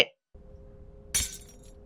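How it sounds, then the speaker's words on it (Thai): Glass shattering in a horror game: after a brief quiet hum, one sharp bright crash of breaking glass, with tinkling fragments trailing off, fairly close and alone. "กระจกแตก"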